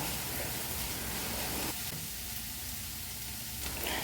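Three sprigs of curry leaves sizzle steadily in hot oil for a home-style masala curry, a soft, even frying hiss that eases slightly midway and then rises again, with no talking.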